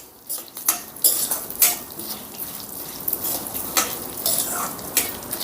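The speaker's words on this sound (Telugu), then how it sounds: "స్టవ్ని లో ఫ్లేమ్లో పెట్టుకొని వీటన్నిటిని దోరగా వేపుకుందాం" Urad dal and coriander seeds dry-roasting in a pan over a low flame, stirred with a metal spatula: close, uneven scraping and clattering against the pan with a faint rustle of the grains, and no talk.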